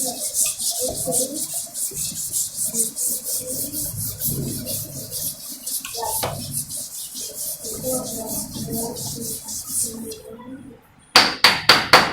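An eraser or cloth rubbing quickly across a classroom board, a rapid back-and-forth scrubbing rhythm that runs steadily for about ten seconds, pauses, then returns with a few sharp strokes.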